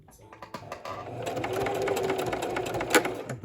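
Sewing machine back stitching a fabric label, a quiet, fast mechanical whirring and ticking that builds up after a few slow starting stitches and then runs steadily for a few seconds.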